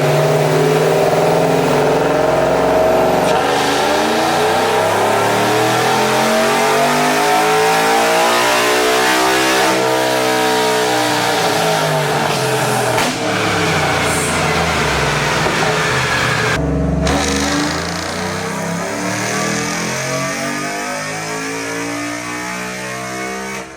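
A car with a ported GT intake and ram air intake does a full dyno pull with a fan blowing on it, the engine note rising steadily through the revs, very loud and close, before an abrupt lift and a falling coast-down.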